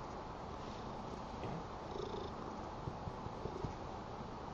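A cat purrs softly and continuously up close, a low rumbling hum with a few faint clicks and rustles over it.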